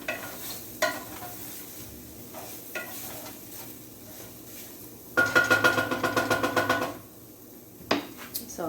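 Mixed mushrooms sautéing in a pan, with a stretch of bright sizzling and rhythmic stirring scrapes in the middle, quieter frying and a few clanks around it.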